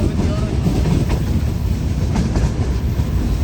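A train slows at Tando Adam station in Sindh, with a loud steady rumble of rolling wagons and a faint rhythmic clatter filling the space close by.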